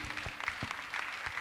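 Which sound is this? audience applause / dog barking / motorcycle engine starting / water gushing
audience applause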